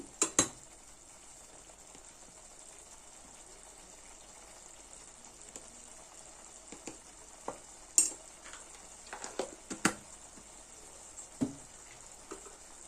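Tomato puree and chili powder fry in oil with a faint, even sizzle, broken by scattered soft clicks and scrapes of stirring toward the end.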